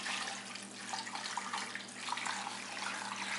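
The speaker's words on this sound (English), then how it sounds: "I'm going to cover it with water." Cool water poured into a crock pot over beef for broth, a steady, soft, continuous splashing stream heard up close and quiet, with no talk.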